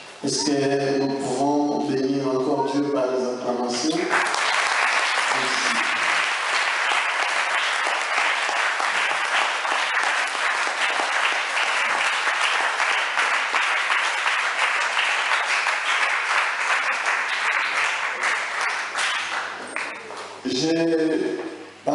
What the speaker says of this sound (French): Est-ce que nous pouvons bénir encore Dieu par les acclamations?